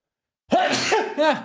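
After a moment of silence, a single loud allergy sneeze bursts out close by, followed by a short second burst.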